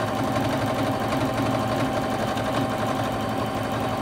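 A domestic sewing machine running steadily through free motion quilting, its even mechanical whir and rapid needle chatter sounding loud and close without a break, with no talking.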